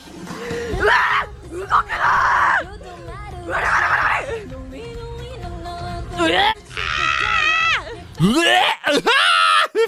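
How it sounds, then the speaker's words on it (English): A singer in a recorded vocal exercise screams, gags and groans in loud, close bursts, shifting between rough yells, strained moans and high wails with brief gaps. "She's gagging, she's screaming, there's all sorts of different tonalities."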